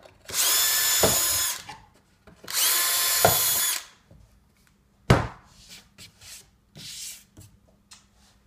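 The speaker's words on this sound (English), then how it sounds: "you can take the 3/32" drill bit that we'll send you with that and continue to drive those holes down through that plywood" A power drill driving a 3/32 inch bit down through plywood, two long loud whining runs, then several shorter bursts and knocks close by.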